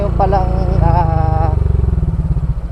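A Honda Click scooter being ridden by a learner, its engine putting out a steady, close, rumbling drone that stays fairly loud throughout, with someone talking over it for the first half.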